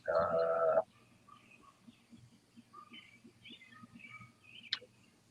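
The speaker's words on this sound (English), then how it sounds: "That's a different bird I'm hearing in the background now." Faint bird calls chirp intermittently in the distance against a quiet background, after a short loud burst at the start.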